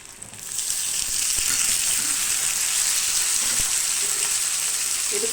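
Onions and tomatoes frying in a pan for a vegetable sambar, a dense hissing sizzle that swells after the first second and holds steady and loud, with a few faint knocks beneath and no talk.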